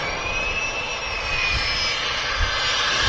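Aircraft engines roar steadily at Manchester Airport, a loud continuous jet whine with a high tonal edge over deep rumble, sustained throughout with no talking.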